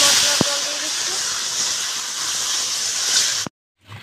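Spiced water poured into a hot pan with green chillies for a fish curry, giving a loud, steady hissing sizzle close by that runs for several seconds and then cuts off abruptly.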